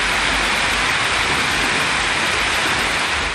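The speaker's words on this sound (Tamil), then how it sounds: "நாகப்பட்டினம் மாவட்டத்தில் கீழையூர், தலைஞாயிறு உள்ளிட்ட பகுதிகளில் கனமழை கொட்டியது." Heavy rain pours down in Nagapattinam district, Tamil Nadu, a dense, loud, unbroken hiss of falling water that stays constant throughout.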